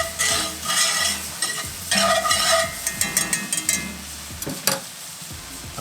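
A garlic mixture is stirred in a pan on a barbecue, with steady scraping strokes over a continuous sizzle, close and fairly loud, no voices.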